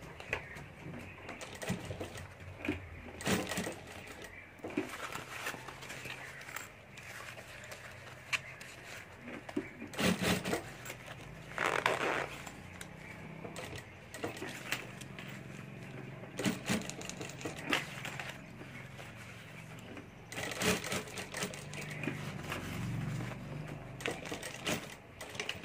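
A sewing machine stitches fabric pieces of a homemade lunch box, giving bursts of rapid mechanical clatter that start and stop across the stretch, moderately close with room noise between runs.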